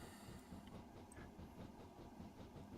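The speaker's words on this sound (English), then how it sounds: "I hear another train." A video-game train on the Darjeeling Railway in Train Simulator Classic rumbles steadily past with a low, rhythmic clatter, fairly faint and continuous, with no voices.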